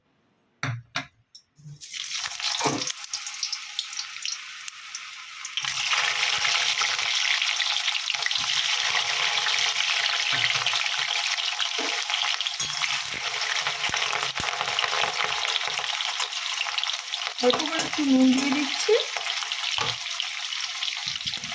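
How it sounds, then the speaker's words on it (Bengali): Potatoes fry in mustard oil in a kadai, a few clatters giving way to a loud, even sizzle that holds steady for the rest, with a brief voice speaking over it near the start. "কড়াইতে আমি সর্ষে তেল দিয়ে দিয়েছি আগে আমি আলুটাকে ভেজে নেবো"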